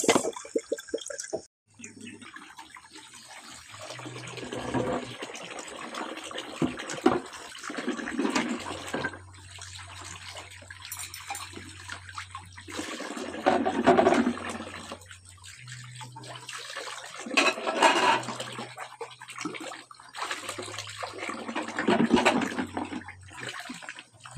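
Dishes and plates are washed under running tap water, with splashing, clinking and intermittent gushes of flow in a home kitchen, a low hum beneath and occasional faint voices.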